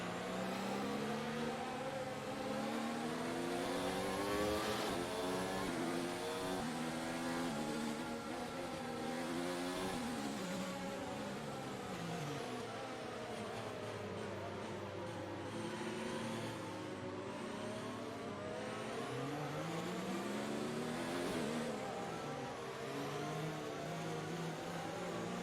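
An F1 race car engine in F1 2019 revs up and down through the gears on a formation lap, a loud, continuous high-pitched whine that rises and falls with each shift.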